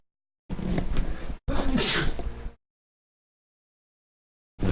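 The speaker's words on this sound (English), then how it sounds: "Oh, I'm gonna sneeze." A single sneeze in two bursts, a sharp intake then a loud explosive release, followed by silence.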